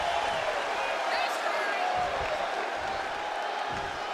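A steady, dense roar from a wrestling arena crowd cheering in the video game WWE 2K26 stays loud and unbroken throughout, with no clear individual voices standing out.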